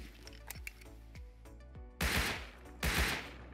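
Gunshots ring out in the survival game Rust as a shotgun trap is shot at: several sharp single cracks at first, then two loud, heavy bursts of fire close up.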